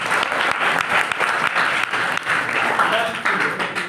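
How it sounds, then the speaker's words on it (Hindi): An audience at a Hindi heroic poetry recital breaks into sustained applause, dense continuous clapping filling the whole stretch at close, loud level. "तो अगर आप सभी का आदेश हो तो तालियों के साथ मुझे आदेश दीजिए।"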